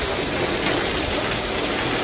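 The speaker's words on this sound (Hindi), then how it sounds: "ये देखिए बहुत तेज़ बारिश हो रही है, बहुत मूसलाधार बारिश हो रही है।" Heavy monsoon-style rain pours steadily and loudly, a dense continuous hiss of drops drumming on surfaces close by, with no break or voice over it.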